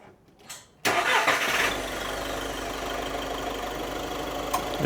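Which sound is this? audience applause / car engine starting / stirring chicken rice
car engine starting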